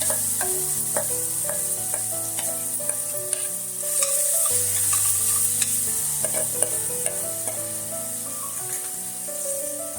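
Jackfruit pulp frying in a tablespoon of ghee crackles with a constant bright sizzle, while a spoon stirs and scrapes the pan in irregular strokes close by, with no talking.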